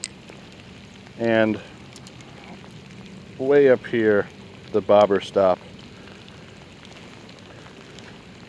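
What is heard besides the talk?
rain falling outdoors on a winter day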